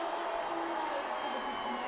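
Roller derby crowd at the 2014 World Cup, USA vs England, a continuous wash of mixed voices and shouting heard from a distance, with no single voice standing out.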